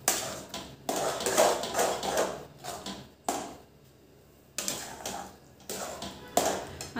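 Gram flour (besan) is stirred in a pan with a spoon, giving bursts of scraping and tapping against the pan separated by short pauses, with a faint sizzle underneath.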